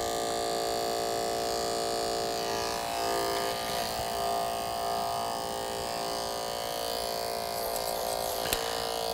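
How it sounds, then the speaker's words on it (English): Electric hair clippers buzz steadily at close range while trimming fuzz from the back of the neck during a short clipper haircut, a constant loud electric drone with slight shifts as the blade moves. "the fuzz on the neck will just get this way with the clipper blade"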